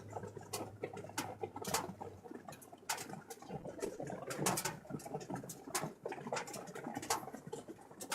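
Rain pattering steadily during a live stream, a dense irregular patter of small taps with occasional louder drops, moderately close, with a low hum underneath and no talking.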